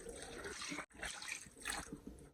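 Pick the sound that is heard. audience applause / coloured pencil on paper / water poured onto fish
water poured onto fish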